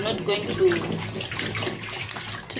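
Water runs from a tap, splashing and gurgling continuously as cooking ingredients are washed underneath it, close and fairly loud.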